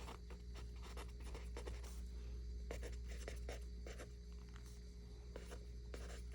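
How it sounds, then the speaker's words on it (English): Pen or pencil writing on paper, a close, quiet run of short scratchy strokes in irregular bursts over a low steady hum, with no talk. "let me write it out"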